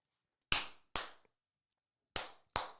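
Four sharp, dry hand claps ring out alone in quiet surroundings, spaced unevenly as two quick pairs, each with a short decaying tail.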